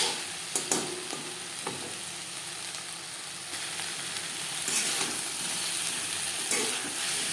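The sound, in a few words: eggplant being stirred and fried on high flame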